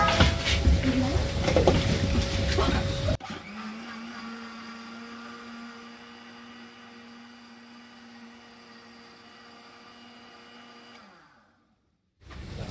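A blender mixes aloe vera with 95% alcohol for homemade hand sanitizer, first in a loud, rough whirring burst, then settling into a steadier, quieter hum for several seconds before switching off.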